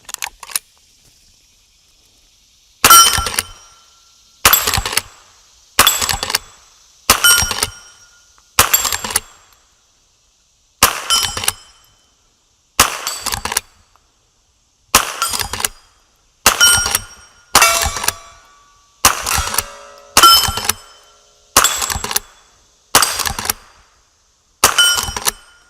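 .22LR rifle rounds fired at targets, roughly seventeen sharp, loud cracks spaced about a second apart with short ringing tails and near silence between them.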